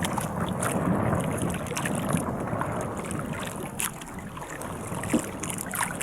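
Steady wind buffeting the microphone over broad rushing noise, like being out on open water in a boat, continuous for several seconds with no talking.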